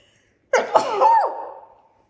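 One loud, close sneeze that starts with a cough-like burst and trails off into a drawn-out voiced exhale.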